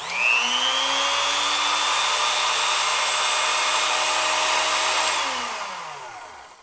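An Ilco Model 008A key cutting and duplicating machine, its motor spinning a cutter of about 2 1/4 inches at roughly 5100 RPM, hums steadily and loud at close range, then winds down near the end as it is switched off.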